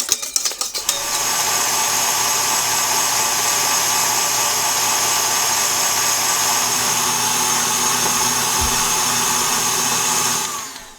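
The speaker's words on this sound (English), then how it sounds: "we're gonna take it over to the KitchenAid and start whipping it with the whisk attachment" KitchenAid stand mixer whips meringue with its whisk attachment, a steady loud motor whine with high whirring that runs nearly unbroken, starting after a few brief clunks and cutting off at the end.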